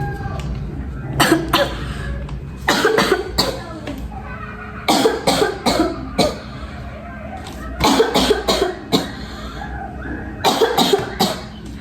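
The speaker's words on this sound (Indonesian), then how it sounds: "Maaf ya, saya sedang batuk." Repeated bursts of harsh coughing in several fits from a woman, close and loud, separated by short pauses.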